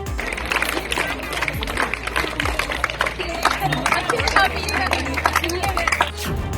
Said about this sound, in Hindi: तालियों की गड़गड़ाहट के बीच एसटीएफ के अधिकारी डीके शाही का सम्मान समारोह।